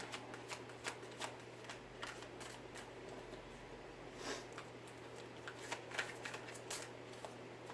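Tarot cards being shuffled repeatedly, soft riffling bursts and taps at an irregular rhythm over a faint low hum, no talking.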